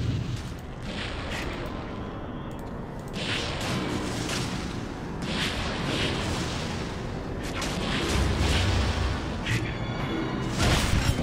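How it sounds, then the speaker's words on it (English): A dragon's breath weapon unleashed in the Sword Coast Legends video game, a sustained roaring, rumbling blast with booming bursts and whooshes, loud and dense for the whole stretch. "He's gonna do something with his breath weapon."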